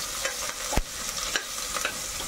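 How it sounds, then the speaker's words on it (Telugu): Onions and green chillies frying in a pan while being stirred, a steady close sizzle broken by a few sharp spoon scrapes and taps. "ఇది మంచిగా కలుపుకోవాలి"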